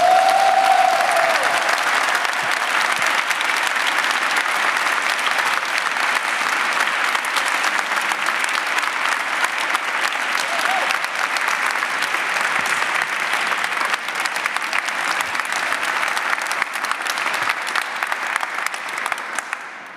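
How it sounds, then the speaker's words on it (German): Sustained applause from an audience at a poetry slam event, a dense, loud, steady wash of clapping lasting about twenty seconds before cutting off. "heute hier gewinnen soll, applaudiert, bitte,"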